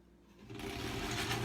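A sewing machine starts up while a quilt block is being sewn, its motor quickly settling into a steady, close whirring hum that runs to the end with no talk over it.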